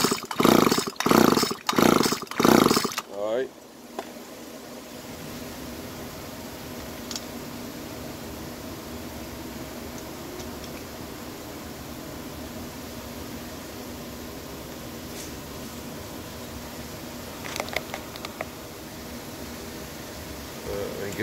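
A Stihl FS 85 RX string trimmer fires a few quick loud revving bursts, then settles into a steady, low, fairly quiet motor drone that continues without a break.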